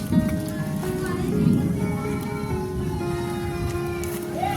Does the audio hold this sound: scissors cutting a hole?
no